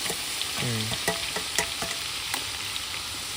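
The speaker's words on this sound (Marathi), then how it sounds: "सगळ्यात पहिले लसूण टाकू होय." Garlic dropped into hot oil for Schezwan chutney, a bright sizzling hiss with a few stirring clinks and scrapes, close and fairly loud, plus a short vocal-like tonal burst near the start.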